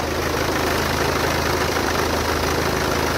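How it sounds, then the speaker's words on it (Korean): A 2014 BMW coupe engine with about 170,000 km idles steadily up close with the bonnet open, an even low rumble with a rhythmic mechanical ticking, running unchanged throughout with no voices. "지금 바로 엔진 소리 한번 자세하게 들려드릴게요."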